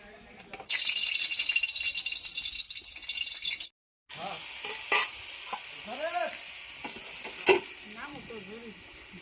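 Leafy greens hiss and sizzle loudly as they are stirred and fried in a pan. The sizzle breaks off abruptly, then talking follows with light kitchen clatter.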